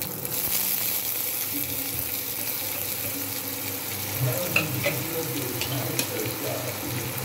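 Onions fry in hot oil for paneer Maggi with a steady, moderate sizzle and a few scattered pops and clinks of a utensil, close by and continuous.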